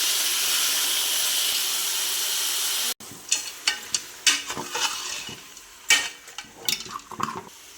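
Chicken sizzling and frying in oil in a pan on the stove, a steady hiss at first, then crackling pops and stirring bursts of varying loudness.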